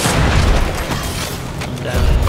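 Mortar shells bursting in the Evolve multiplayer shooter: a dense, continuous stretch of low booming impacts layered with crackling bursts and mechanical clatter, loud and close throughout.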